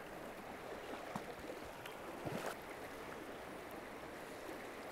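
Fast-flowing river water rushing steadily around rocks, a constant broad wash close by with a few faint knocks and splashes mixed in.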